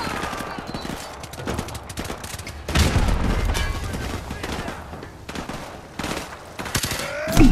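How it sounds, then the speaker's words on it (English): Bursts of gunfire and a grenade blast in the Call of Duty: Modern Warfare Remastered prologue, with rapid shots and a heavier boom under intermittent game dialogue and player chatter. "Grenade out."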